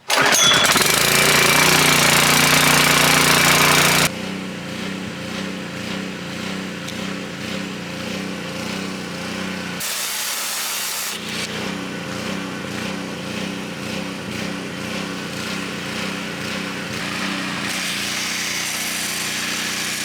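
A pressure washer rigged for sandblasting, drawing sand from a bucket through a tube, gives a loud blasting hiss at first, then its engine-driven pump pulses steadily, with another brief blast burst midway, close and continuous.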